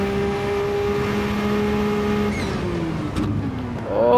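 A race car screams at full throttle around the Nurburgring in a racing game, its engine holding a steady high whine before the pitch drops and then climbs again near the end, loud and close with no talk.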